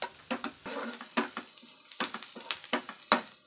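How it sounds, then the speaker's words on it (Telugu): Onions frying in melted butter with green chillies and curry leaves for chicken manchuria, a soft sizzle broken by repeated scraping stirs of a spoon against the pan at an uneven pace, with no talking. "బటర్ కరిగిపోయిన తర్వాత ఆనియన్స్ వేసుకొని ఫ్రై చేసుకుని పచ్చిమిరపకాయలు వేసి కరివేపాకు కూడా వేసి బాగా యాగనివ్వాలి."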